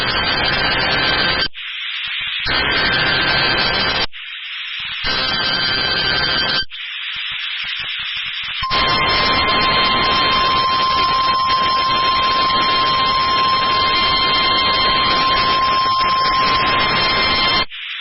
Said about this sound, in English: This is a test of the emergency alert system in NOAA Weather Radio's warning alarm.